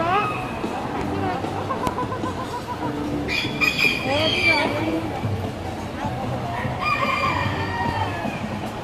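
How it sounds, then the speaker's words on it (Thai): A laughing chicken breed crows in a long, drawn-out call amid a noisy farm setting with other fowl, while people talk throughout. "ไก่หัวเราะต้องรอต้องรอขันนะเขาขันเขาจะ ขันยาวมาก"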